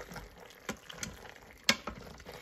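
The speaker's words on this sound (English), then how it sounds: "So now I just give it a nice, stir." A spoon stirs vegan one-pot pasta inside an Instant Pot, giving quiet wet scrapes and a few sharper clinks against the pot, faint and sparse, with no talking.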